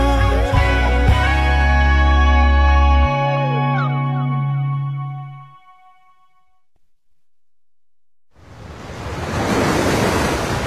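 Ocean waves on the Okinawa shore, a broad hiss of surf that swells in loudly after a stretch of fading instrumental tones and near silence, alone and without talk.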